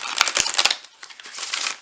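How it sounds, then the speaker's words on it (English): Tarot cards shuffled by hand during a reading, a quick run of crisp riffling slaps and papery rustles, close and fairly loud, with no talking. "So first I'll go ahead and shuffle these"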